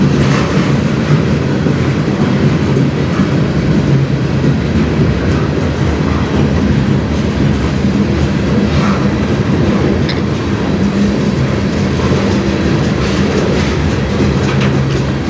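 A CN freight train rolls past on the Strathroy Subdivision, its steady rumble and rhythmic clickety-clack of wheels on rail loud and continuous throughout, with no voices.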